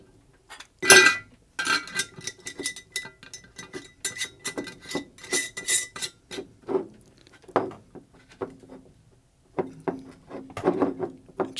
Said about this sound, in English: let's put the lid on here.